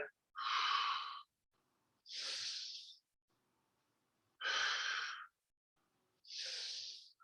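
Four slow, deep breaths during a power yoga class, alternating inhales and exhales, each lasting about a second, close and clearly audible with quiet gaps between them.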